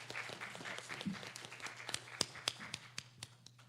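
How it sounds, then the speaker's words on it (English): Scattered audience applause at a diversity summit panel, a soft, thin patter of individual claps that thins out into sparse taps toward the end, with a low steady hum underneath. "Can we give Professor Ellis another round of applause for doing a wonderful job?"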